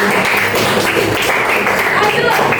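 Students clapping together in an Indonesian classroom, a dense, steady patter of many hands filling the room close by, with voices mixed in under the applause.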